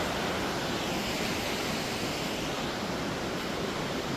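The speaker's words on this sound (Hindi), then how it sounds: "यहाँ पे से वैसा यहाँ तक उड़ के आ रहा है पानी झरने का।" Birthi Waterfall in Uttarakhand roaring as spray carries across from the falls, a dense, steady rush of water that stays loud and unbroken throughout, with no voices.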